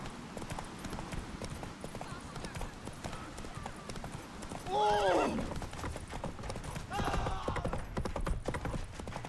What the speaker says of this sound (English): Horse race. Giddy up.